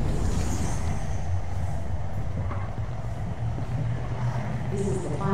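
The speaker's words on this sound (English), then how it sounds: "This is the final stop. Please exit the train." In the video game Concluse, a train pulls into its final stop with a steady low rumble and rattling of carriages, a brief metallic squeal rising near the end, with faint voices underneath.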